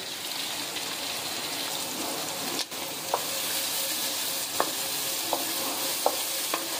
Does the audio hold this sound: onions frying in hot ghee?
yes